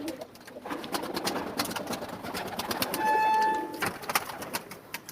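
Pigeons coo softly in the background, with steady low murmuring and scattered clicks throughout and a brief tonal note near the end.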